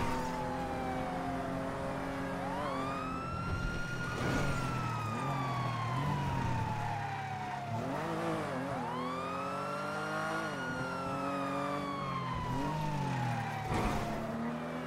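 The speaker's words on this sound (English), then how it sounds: "Yeah, the sirens is the cop behind me." A police siren wails in long rising and falling sweeps behind a car engine, repeating several times at moderate distance, from a police car in the NoPixel roleplay video game.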